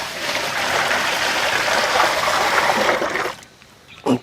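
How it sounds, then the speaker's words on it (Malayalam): Water pours steadily into a large uruli pot, a continuous splashing gush for about three seconds that then stops, followed by a brief clink. "ആദ്യം കുറച്ച് വെള്ളം ഒഴിക്കാം."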